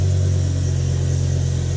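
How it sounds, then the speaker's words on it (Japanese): A deep, throaty BMW M6 coupe (E63, SMG-III) engine idles and rumbles steadily close by, loud and low, with no voices. "重低音が効いたエンジンサウンドとなっております"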